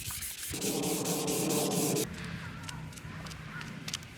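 Steady, gritty rubbing of sandpaper back and forth on the gloss finish of an Epiphone SG Jr guitar neck, loud and close for a couple of seconds, then softer scraping strokes continue, outdoors in a park.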